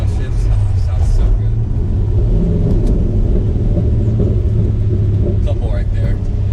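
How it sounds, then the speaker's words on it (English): Corvette C5 Z06 exhaust heard from inside the car on downshifts: a loud, steady low rumble fills the whole stretch, broken by a few brief crackling pops. "I'm not sure if you guys can hear the pops on the downshifts."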